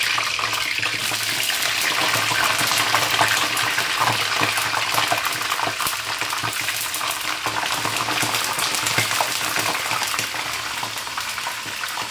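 Loud, steady crackling and hissing of food frying in hot oil, continuous throughout with bubbling spatter and no voices.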